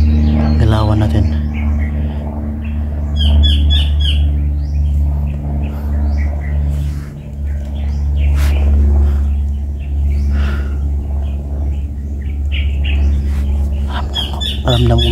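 Bird calls and chirps ring out in short bursts outdoors over a constant low engine-like rumble and hum, with someone talking intermittently throughout.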